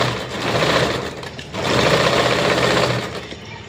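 Sewing machine runs a zigzag stitch along organza saree fabric, a steady close mechanical whir with a rapid rhythmic ticking that eases briefly midway, then resumes at full speed.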